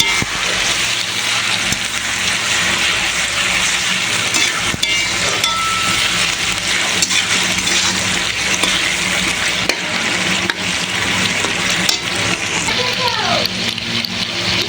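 Potatoes frying in a pan of oil while a large batch of chicken kosha cooks for twenty people, a steady loud sizzle running unbroken throughout with occasional stirring scrapes.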